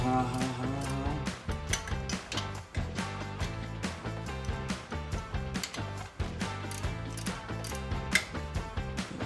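Ratchet wrench loosening bolts on a 1951 Ford F1 pickup, a steady stream of close, rapid clicking strokes repeating rhythmically with short breaks between swings.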